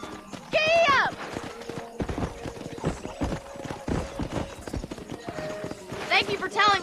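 A horse gallops in the Red Dead Redemption video game: rapid rhythmic hoof clip-clops run throughout, with horse whinnies near the start and end and background game sounds beneath.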